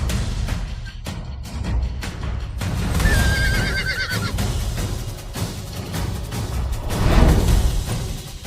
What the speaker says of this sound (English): Look at his horse. He can't even gallop.